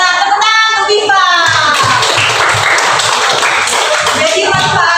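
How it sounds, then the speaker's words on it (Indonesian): Children in a classroom break into a burst of clapping that fills most of the clip, steady and fairly loud, with some young voices mixed in. "Tepuk tangan untuk Viva."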